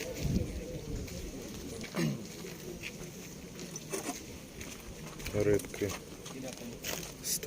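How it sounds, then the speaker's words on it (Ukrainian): Pigeons being fed at an outdoor market stall, soft coos and wing flutters scattered among nearby chatter and people talking over a low background murmur. "Це кормять голубей."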